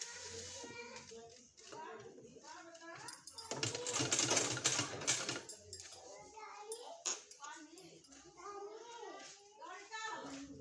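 A sewing machine stitches a palazzo trouser in a fast, rattling burst lasting a couple of seconds, set between stretches of steady talking, with a voice also heard.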